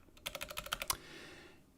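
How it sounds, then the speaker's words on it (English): Quick, crisp keystrokes on a computer keyboard, about eight clicks in an even run lasting under a second, close and clear against a quiet room. "You can just click in here and start typing, start typing the address"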